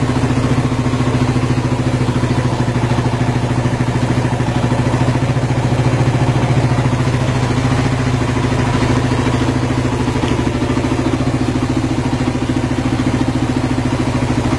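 Motorcycle running on water fuel idles steadily and close by, with a constant loud rumble and fine mechanical clatter throughout, no voices.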